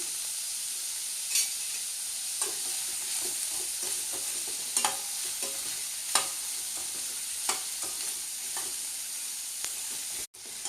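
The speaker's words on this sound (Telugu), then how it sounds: "ఇలా వేగుతున్నప్పుడే సన్నగా పొడిగ్గా చీరుకుని 4 పచ్చిమిరపకాయలు వేసుకుంటున్నానండి." Onions fry in a pan with a continuous hiss while four thinly slit green chillies go in, and occasional spatula scrapes and stirs sound over the steady sizzle. No one speaks.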